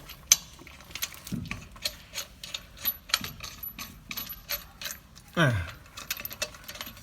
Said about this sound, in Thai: ก็ใช้ประแจบล็อกครับ ขันเลยครับ